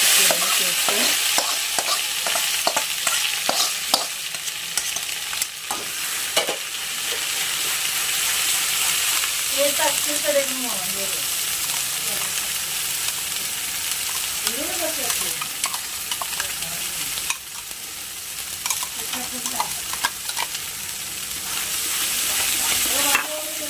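Asafoetida, curry leaves, onion, tomato and ginger paste frying in a pan, a loud sustained sizzle with frequent spatula scrapes and stirring, with brief faint voices in the background.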